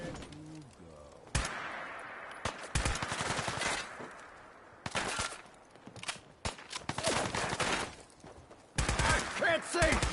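Gunfire in the Fallout 4 video game, bursts of rapid shots and loud single cracks in irregular clusters with short gaps between them, with shouting voices mixed in.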